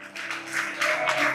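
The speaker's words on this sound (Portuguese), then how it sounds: "aplauda o Senhor" A church congregation applauds in bursts of clapping during a worship service, with sustained music and voices underneath.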